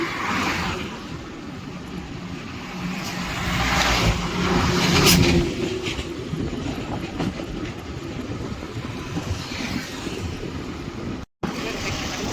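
Road traffic in Rairangpur, Mayurbhanj, with many kinds of vehicles and buses going past, a steady broadband rumble and whoosh that swells around the middle, with faint voices in the background.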